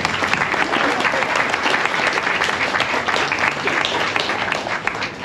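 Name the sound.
audience applause at reopening ceremony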